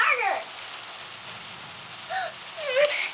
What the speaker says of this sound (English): it's raining even harder and harder